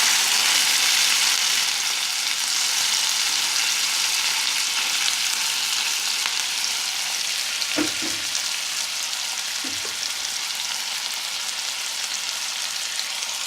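Chicken pieces sear in a hot pan, giving a steady, bright sizzle that lasts throughout, with a couple of brief thumps or clatters partway through.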